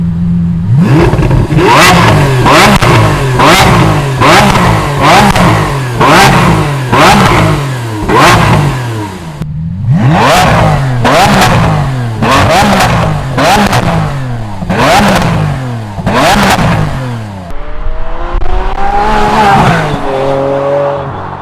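A Lamborghini Aventador SVJ with an Inconel exhaust revs hard again and again on a road, rising and falling in repeated bursts with sharp, crackling exhaust pops, loud and close.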